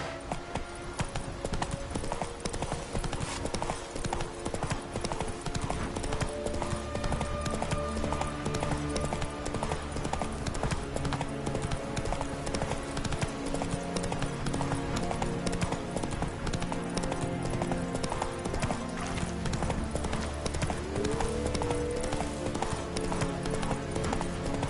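Roach the horse galloping in The Witcher 3, a dense, continuous beat of hoofbeats running throughout beneath game music, with a faint whinny-like rise near the end.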